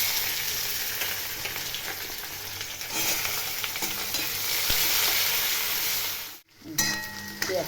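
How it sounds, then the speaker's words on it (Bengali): Onions fry in white oil with cardamom and bay leaf, giving a continuous close sizzle with stirring scrapes. The sizzle briefly cuts out near the end, then returns. "পেঁয়াজটা ভাজবো।"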